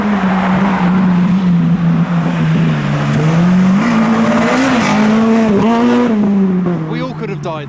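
A tuner car arrives fast at a car meet, its loud engine tone steady and close, rising and falling in pitch with gear changes and revs over the whole stretch while people talk nearby.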